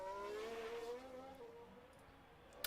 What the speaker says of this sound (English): I'm going to guess that the cars are too loud, aren't they?